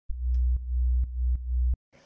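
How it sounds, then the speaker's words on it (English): A small sub bass synth layer from a remake plays alone as deep, smooth, sustained low tones in a steady repeating pattern of four notes, ending abruptly with a brief burst of noise. "and then this little sub"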